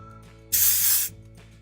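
IGK Direct Flight dry shampoo sprays out in a single loud, close hiss lasting about half a second, set against a quiet room.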